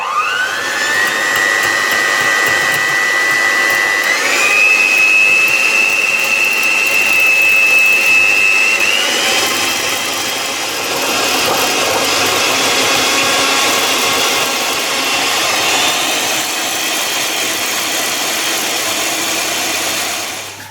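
Electric mixer beating eggs for egg coffee, a loud continuous whirring drone whose pitch steps up between speeds before settling into a steady churn, close with no talk.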